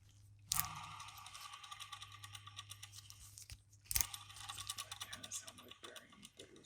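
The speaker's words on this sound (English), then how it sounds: "It kind of sounds bad. If the bearings are bad, we just have to replace the alternator." A worn-bearing BMW E36 alternator, removed from the car, gives a continuous mechanical ratcheting, grinding rattle with a steady low hum underneath and two sharp louder bursts near the start and middle, heard close up.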